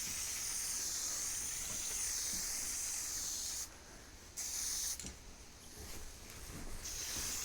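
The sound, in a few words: spray painting a coat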